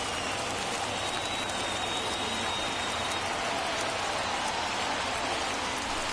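In a baseball video game, a stadium crowd of thousands rises to its feet and cheers with a dense, steady roar of noise, loud and unbroken throughout.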